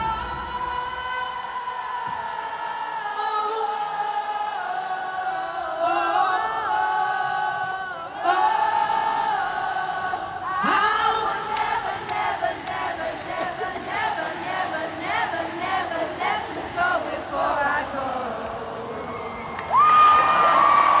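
A large concert crowd sings a song together at a tour show, a dense, sustained wash of many voices carrying the melody, with cheers swelling near the end.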